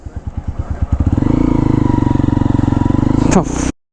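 A motorcycle engine close by, its chugging pulses speeding into a steady rumble before stopping abruptly.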